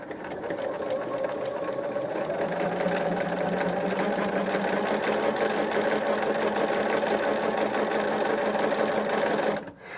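A sewing machine runs steadily at close range, stitching quilt pieces for a Tree of Life quilt block, its fast motor whir and needle rhythm continuing almost unbroken before stopping abruptly at the very end.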